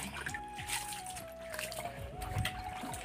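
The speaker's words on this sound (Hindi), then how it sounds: "ये तो यार ये गंदा पानी पी रहा है।" A dog laps up dirty water outdoors, with small splashes and trickling sloshes at close range, irregular and fairly quiet, while a person talks over it.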